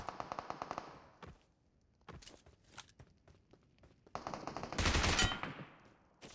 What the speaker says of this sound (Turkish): Sağ taraftan geliyor silah sesleri de.